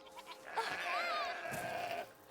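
A goat bleats in the video game A Plague Tale Requiem, one long wavering call lasting over a second, close and clear with faint game ambience around it.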